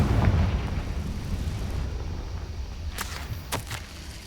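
A Confringo fire spell goes off in the Hogwarts Legacy video game: a low rumbling blast that decays gradually, followed by two short, sharp crackling bursts near the end, moderately quiet overall.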